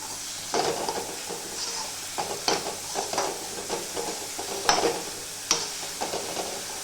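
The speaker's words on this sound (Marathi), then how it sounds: "हिरवी मिरची तेलामध्ये चांगली फ्राय करून घ्यायची" Green chillies and tomatoes sizzle in hot oil while a spoon stirs them, with repeated scraping strokes in an uneven rhythm over a constant close frying hiss, and no voices.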